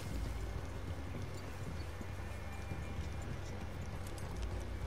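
Horse hooves pounding at a gallop in Red Dead Redemption 2, a steady dense clatter of several horses under continuous low rumble and wind, loud and close throughout.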